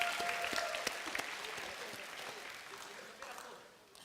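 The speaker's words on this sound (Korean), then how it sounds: "박수." A church youth group congregation gives a short round of applause, scattered clapping heard fairly faintly in the room and thinning out over a few seconds.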